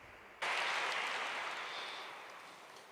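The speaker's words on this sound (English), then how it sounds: "I would like to give him a round of applause" An audience bursts into applause for a guest at a talk on mental illness and recovery, starting abruptly and then fading slowly as a dense, sustained round of clapping.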